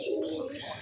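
A pigeon at a pigeon farm gives a single short, soft coo, close by and fairly quiet, with no talk over it.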